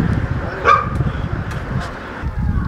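Stray dogs bark on city streets, with a few sharp barks and yips standing out over a steady hum of urban background noise.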